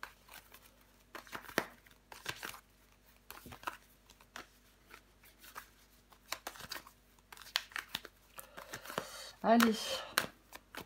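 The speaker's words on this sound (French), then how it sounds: "Mais je vais recouvrir des cartes." Tarot cards shuffled, handled and flipped over, giving soft papery rustles and flicks scattered under intermittent speech, with a louder crinkling handling sound near the end.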